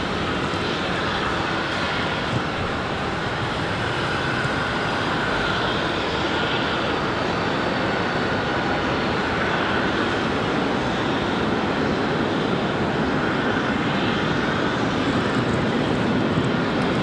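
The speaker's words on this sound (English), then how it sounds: "Check out the 737 that's pushing back for United Airlines." A United Airlines Boeing 737 pushes back at Raleigh-Durham International Airport, its engines giving off a loud, steady roar and whine that holds unbroken throughout, with no talking.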